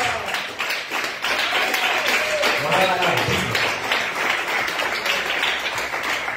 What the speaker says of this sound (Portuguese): se possível, aplaudir a Jesus com alegria